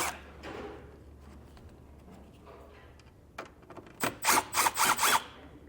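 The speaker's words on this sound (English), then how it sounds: "we'll go ahead and get this Phillips screwdriver" A Phillips screwdriver takes screws out of the fascia brackets on a 2025 Kia Telluride. Quiet scraping and a few clicks lead into a quick run of five loud, rhythmic ratcheting bursts near the end.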